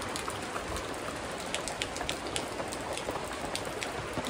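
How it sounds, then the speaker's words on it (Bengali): Heavy rain pours steadily on a day when rice cakes and sweet pudding are being made at home, with a dense, loud hiss and spattering drops on surfaces and no pauses or voices. "প্রচুর জল পড়তেছে"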